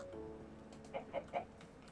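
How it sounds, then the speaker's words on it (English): Minecraft chicken clucking in the video game, three short clucks close together over a steady low background hum, with no talking. "There we have a chicken and a cow."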